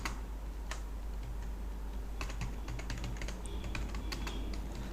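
Quick, light keystrokes tap on a computer keyboard in an irregular patter, fairly close and quiet over a low steady hum, with a short burst of clicks near the end.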